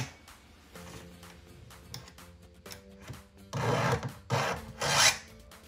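A Husqvarna chainsaw chain being sharpened by hand with a file gives off rhythmic metallic rasping strokes. They start sparse and quiet, then grow louder and denser toward the end, close up and with no one speaking.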